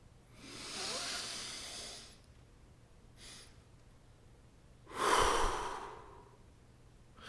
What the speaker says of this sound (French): Un chef de famille, un chef de tribu, il respire comme ça.